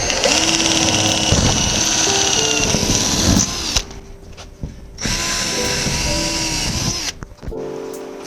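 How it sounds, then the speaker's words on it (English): Power drill pre-drilling holes in lightweight steel roof panels on a tiny house, two loud close bursts of whining, grinding drilling separated by short pauses and clunks. "But first I need to pre-drill all of the holes."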